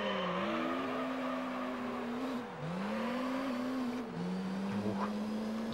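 A racing car's engine revs hard in second gear in Gran Turismo 3, a steady high whine that rises and dips through brief lifts and shifts, with faint tire noise underneath.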